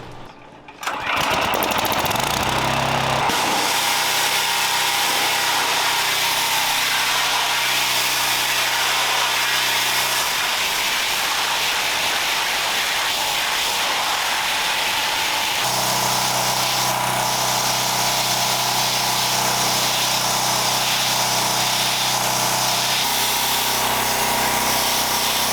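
A pressure washer blasts the hull of an Everglades 325 boat that has spent six weeks in the water. A loud, harsh spray roars continuously and close, its tone shifting as the nozzle moves across the hull.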